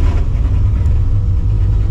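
Supercharged New Edge Ford Mustang GT V8 rumbling steadily with a deep, loud, continuous low growl close by, with no talking over it.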